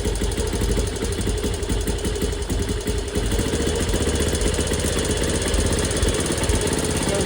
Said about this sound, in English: kick it over a couple of times to get the fuel into the cylinder. Then I'm going to flick the ignition on